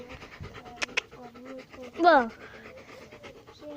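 A small dog pants in quick, light breaths close by, with a brief sharper burst partway through, while a person speaks a word nearby.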